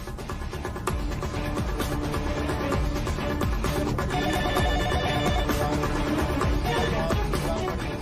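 A telephone rings continuously and loudly in a home during a wedding day, its bright repeating tones filling the clip without pause.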